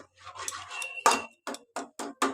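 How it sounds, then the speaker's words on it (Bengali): Semolina (suji) is stirred in a pan on a gas stove, giving a scraping stir followed by four short, evenly spaced metal scrapes and clinks, close and clear with no speech. "এবার সুজিটাকে নাড়তে হবে সমানে"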